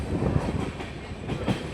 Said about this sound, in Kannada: ನಮ್ಮ ಟ್ರೈನ್ ಇವಾಗ ಈ ರೋಡ್ ಜಂಕ್ಷನ್ಗೆ ಎಂಟ್ರಿ ಆಗಿದೆ.